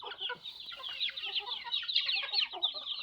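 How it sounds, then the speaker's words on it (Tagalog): Many chickens cluck and chatter at once in a busy, continuous flock sound, moderately close and without pause. "Mga kutiyo, ang tawag niya mga manok guys."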